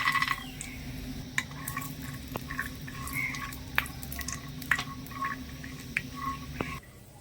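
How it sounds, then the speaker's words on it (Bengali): Peanuts crackling and popping in a little hot oil, scattered sharp close pops over a low, quiet sizzle that fades out at the very end. "তেলটা গরম হয়ে গেলে কয়েকটা বাদাম দিয়ে দিচ্ছি"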